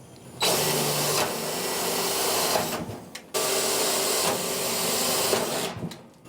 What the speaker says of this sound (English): going to need a hole drilled for our bolt that holds this coil in place